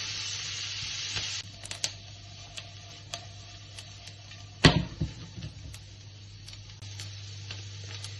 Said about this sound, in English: So you want to cook this down until most of the liquid comes out of it and it's nicely wilted.